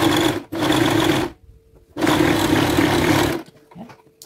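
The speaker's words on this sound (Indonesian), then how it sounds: "saya jahit dulu ini untuk kantongnya ya" A sewing machine stitches a trouser pocket in thin fabric in two loud, close whirring bursts separated by a short pause, the second run ending in quieter handling clicks.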